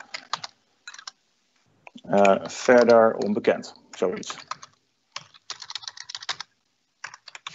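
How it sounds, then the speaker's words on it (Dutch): Close, fast clicking of typing on a computer keyboard, running in short bursts before and after someone speaking Dutch. "moet ik wel goed typen."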